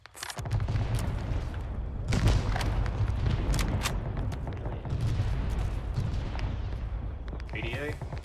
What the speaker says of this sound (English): 10 seconds till mortar drop.